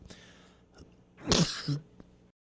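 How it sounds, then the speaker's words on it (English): A single sudden, close cough bursts out of a quiet room, followed by a brief throaty catch. "Surprise cough, sorry."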